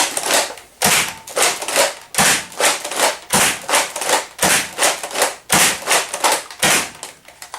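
A modded pump-action Nerf Longshot blaster fires six darts in rapid succession, loud close-up cycles of pumping clacks and sharp air-burst shots repeating in a fast, steady rhythm.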